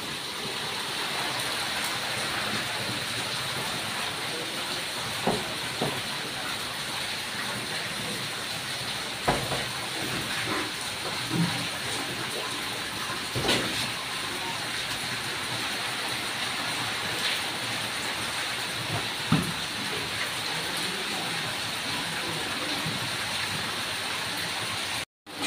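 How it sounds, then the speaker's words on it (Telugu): Heavy rain falls outside in a steady, dense wash of noise, with occasional louder splashes and drips standing out against the constant roar, and no voices. "వర్షం అయితే బయట ఫుల్ పడుతుంది"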